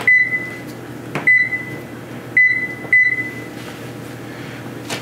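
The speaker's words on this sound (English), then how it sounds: "I'm gonna set my timer for 30 minutes." A kitchen timer being set while home-brewing beer gives four short, sharp electronic beeps in an uneven rhythm, each with a soft button click, over a low room hum.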